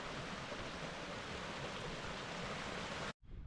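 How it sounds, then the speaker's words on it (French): A waterfall on a mountain hike in Alsace makes a steady, dense, broadband rush with no break, then stops abruptly at the very end. "La cascade qui est là."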